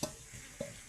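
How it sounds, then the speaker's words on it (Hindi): Dal lentils simmering in a pot over a wood fire are stirred, with two short scraping knocks of the spoon against the pot over a steady low bubbling hiss. "अभी दाल उबल रही है"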